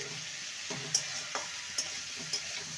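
Ridge gourd frying in a pan, a soft steady sizzle with a few spaced spatula taps and stirring scrapes, fairly quiet and close.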